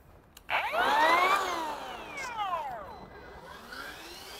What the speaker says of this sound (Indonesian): Vacuum cleaner udah nyala ya.